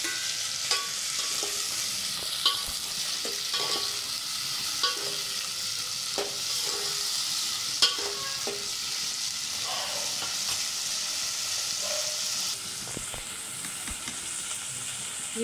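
Onion, tomato and slit green chilies fry in a pan with steady, close sizzling and crackle, broken by occasional stirring clinks and scrapes.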